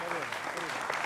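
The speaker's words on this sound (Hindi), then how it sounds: "तो जोरदार तालियों से जनता जनार्दन का भी अभिनंदन है" A TV studio audience claps for a debate show, a brief, fairly faint wash of applause with a voice speaking over it.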